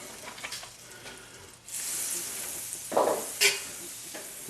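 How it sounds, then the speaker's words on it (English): A generous pat of butter hits a pan over medium heat, producing a soft, uneven sizzle with a couple of sharper spattering bursts near the end. "Sauteing. I got it over medium heat. I'm going to put a decent amount of butter in there."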